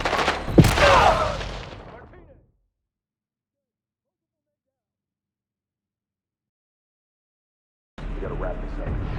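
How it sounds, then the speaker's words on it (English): Loud gunfire bursts in the Call of Duty Black Ops 6 campaign, dense overlapping shots for about two seconds that trail off into silence, then a rough burst of combat noise returns near the end. "Suppressing fire."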